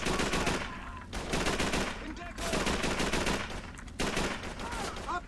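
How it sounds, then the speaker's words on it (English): Rapid automatic gunfire bursts from the video game Call of Duty 3, dense and loud, in several sustained volleys separated by brief pauses. "Who else is shooting at me?"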